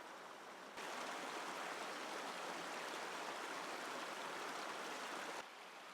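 Water flows at the Geomryongso mountain spring, the source of the Han River that pours out 2,000 tons of clear water a day. It makes a steady, full rushing wash that swells in after a quiet start and holds evenly.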